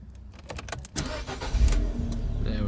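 A 2015 Abarth 595 Turismo with a 1.4 turbo petrol engine starts up close by: a short starter crank, then the engine catches with a rising rev and settles into a steady idle.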